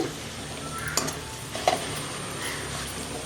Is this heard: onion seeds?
yes